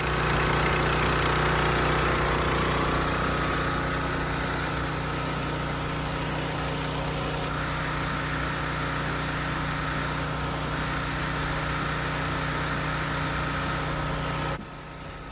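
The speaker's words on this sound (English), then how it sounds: "I am hosing down the bike very carefully. Even though it may seem like the water has such a high pressure" Pressure washer running steadily at close range while a Royal Enfield Himalayan motorcycle is hosed down, a continuous loud engine drone and water hiss that drops off sharply at the very end.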